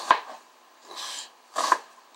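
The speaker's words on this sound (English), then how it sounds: "cut the onion as if you don't care at this point" A knife chops through an onion on a board in three crisp, close strokes with short pauses between them.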